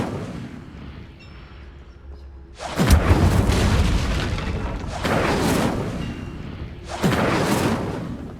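Incendio fire spell being cast in Hogwarts Legacy, three loud booming fiery bursts, each followed by a rushing roar over a low background hum.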